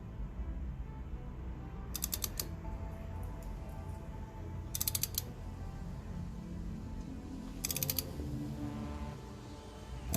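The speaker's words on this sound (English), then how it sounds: "Now we put on our torque wrench. Remember, it's at 15 foot-pounds." Torque wrench set to 15 foot-pounds ratcheting a spark plug tight on a Chevrolet Cobalt SS, several short bursts of quick clicking separated by pauses, close and fairly quiet with no talk.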